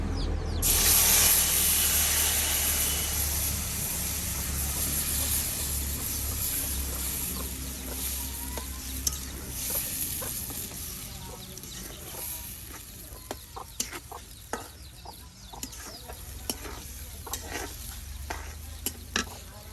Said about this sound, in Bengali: আপনার মশলার সাথে মাখা মাখা করা শুটকিগুলো এখন দিয়ে দেওয়া হবে